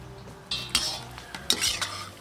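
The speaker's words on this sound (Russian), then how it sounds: "Курдюк вытопился, шкварочки убираем." Metal utensils scrape and clink against a heavy cauldron, scooping cracklings out of rendered fat with a few sharp knocks over a faint background sizzle.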